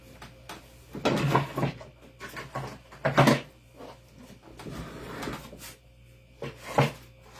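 A drawer being opened and forced while crafting DIY shirts, giving several loud woody scrapes and knocks in bursts about a second or two apart, with quieter rubbing between them.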